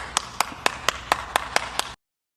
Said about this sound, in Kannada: ಚಪ್ಪಾಳೆ ಸೌಂಡ್ ಕೇಳಿಸ್ತೈತೆ